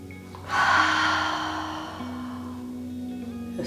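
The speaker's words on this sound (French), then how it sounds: "Prends une longue inspiration par le nez, tu peux soulever les épaules vers les oreilles. Expire doucement par la bouche." A deep breath drawn in through the nose and let out through the mouth during a stretching session: a sharp inhale, then a long, fading, airy exhale, close and alone over quiet soft background music.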